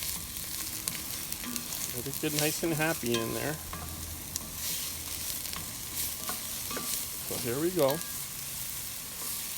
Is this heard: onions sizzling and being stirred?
yes